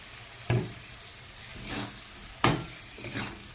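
Potatoes hit hot oil with two sharp sizzling splashes, each followed by a softer crackling stir, against a steady low frying hiss.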